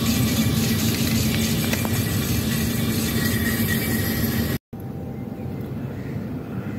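A Ford diesel engine with a failing particulate filter idles steadily, giving a continuous low drone with a brief cut partway through, close and fairly loud.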